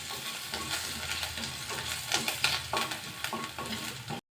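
Garlic, dried chilli and curry leaves frying in a pan while being stirred, a steady close sizzle with scraping stir strokes throughout, no talking.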